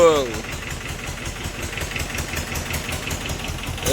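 A boat's engine runs with a steady, loud mechanical drone close by, holding an even idle-like rumble throughout.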